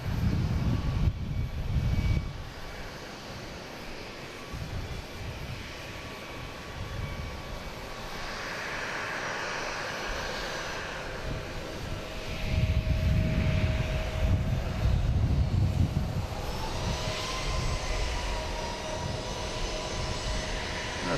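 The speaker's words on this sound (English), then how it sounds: "Next coming in is a Delta from Madrid, an A330-900." A Delta Airbus A330-900 arriving from Madrid lands at Boston Logan, a loud jet roar with rising and falling engine whine, rumbling bursts near the start and middle, and a tone sweeping upward late on.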